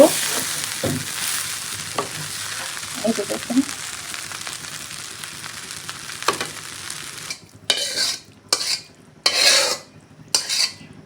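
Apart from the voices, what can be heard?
rice and lentils frying in a pan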